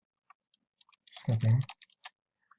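Typing on a computer keyboard: a scattering of soft, irregular clicks spread across the moment, with a brief voice in the middle.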